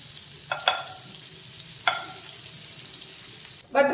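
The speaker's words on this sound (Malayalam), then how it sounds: "അത് ചൂടായി കഴിഞ്ഞാൽ നമുക്കതിലേക്ക് കുറച്ച് ബട്ടർ ഇട്ട് കൊടുക്കും. ബട്ടർ നന്നായിട്ടൊന്ന് മെൽറ്റാക്കാം." Butter melting in a hot pan on the stove, a faint steady sizzle with a few sharp scraping clicks of a utensil and a louder burst of sizzling near the end.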